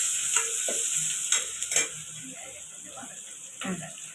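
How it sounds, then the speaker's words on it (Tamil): Onions cooking in oil with cumin in a pan, giving a steady close sizzle with scraping stirs and a few sharp clinks from the spoon; no one speaks. "வெங்காயம் நல்லா வதங்கட்டும்."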